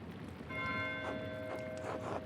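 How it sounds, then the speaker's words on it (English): A church bell tolls in the video game Pentiment, its struck tones ringing with long sustained overtones against a quiet ambient background, repeating several times across the moment. "Why is Matthew ringing the bell?"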